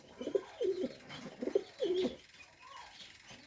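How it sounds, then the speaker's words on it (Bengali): A male pigeon, a Pakistani or racing breed, coos in a loft with a few soft, throaty rolling calls in quick succession, close and fairly quiet. "নর খুব ভালো ফাইন ডাকে এই দেখেন নট ডাকা শুরু করেছে"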